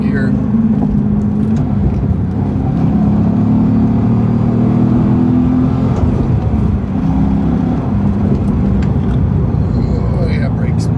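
A 2006 C6 Corvette with a new aftermarket exhaust pulls hard in third gear, a loud steady low engine drone from inside the cabin, with people talking over it.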